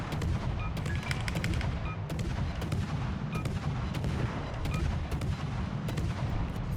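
Naval guns firing in a World of Warships battle from a Lushun T10 Pan-Asian destroyer, a dense run of sharp repeated shots over a steady low rumble of combat and engine noise, loud and continuous throughout.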